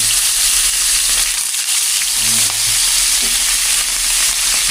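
Talakitok fish frying in hot oil in a pan for breakfast, a loud, steady, close sizzle with bursts of crackling that runs throughout without pause.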